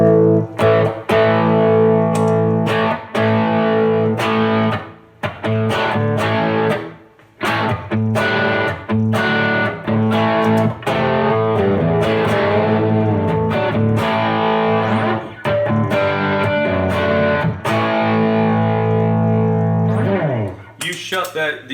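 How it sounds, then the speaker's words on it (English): Electric guitar driven through a Nobels overdrive pedal with boost pedals stacked in front, giving a thick, fuzz-like distorted tone: sustained loud chords and notes with brief pick attacks and short gaps, played alone without talk. "The Nobles is such a cool pedal because it can give the appearance of having a kind of a fuzz type thing or distortion"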